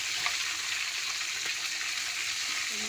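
Tangra fish frying in hot oil makes a steady, close hiss and sizzle with faint crackles throughout.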